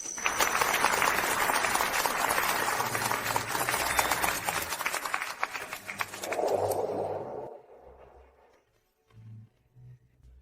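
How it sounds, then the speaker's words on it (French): Warm applause greets the bride and groom as they enter together at a wedding ceremony, thick and continuous for several seconds before thinning and fading out, with low musical tones lingering at the end. "Accueillons-les avec des applaudissements."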